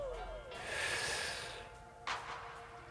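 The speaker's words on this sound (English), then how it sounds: "take a deep breath in" One deep, slow breath drawn in through the nose, close and airy, swelling over about a second and then easing off, followed by a shorter, sharper intake.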